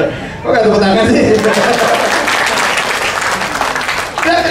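Audience at a large business training kick-off event bursts into applause, a loud, dense clapping that swells after a brief voice, mixed with chuckles and laughter, then eases as someone speaks again.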